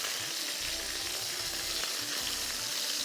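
Whole dried red chillies fry in oil in a pan for Schezwan ginger chicken, giving a steady, close crackling sizzle with soft stirring scrapes throughout, no voices.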